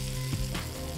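Butter hitting a hot pan while cooking chicken balls, giving a steady close sizzle and frying hiss that runs for about a second with no talking.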